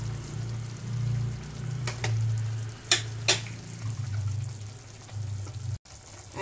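Chicken soup with winter vegetables being stirred in a pan right after tomato sauce goes in: a steady close bubbling sizzle with a few sharper scraping strokes, no talk.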